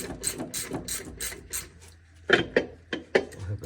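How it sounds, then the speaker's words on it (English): Bolts being tightened down on a DD13 fuel pump housing: a run of rapid ratchet clicks, then three or four sharper, louder metallic clicks close up, with no talk. "Tightening them down. 4 bolts."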